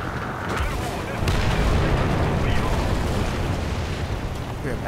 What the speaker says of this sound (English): About to get hit by artillery.